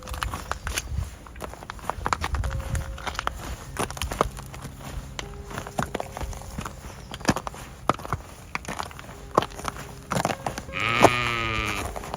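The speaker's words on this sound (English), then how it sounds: "Round to the sheepies." Sheep on a farm bleat near the end, with one clear call ringing out over footsteps and shuffling in a quiet morning barnyard.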